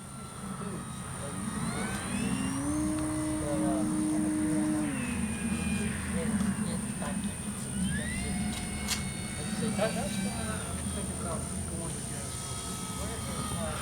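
A model airplane's thin, whining engine drones steadily at a distance, pitch rising and falling as it passes, while someone talks over it.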